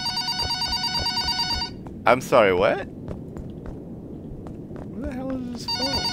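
A telephone rings in the video game Yokai Shop, a bright electronic trilling ring repeating loudly at the start and again at the end, with a voice speaking in between.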